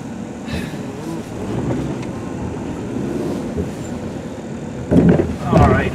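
Interior road noise from a black 2003 Saturn Ion rolling over a bump, with a steady low rumble and a couple of sharper knocks near the end as the worn rear suspension clunks.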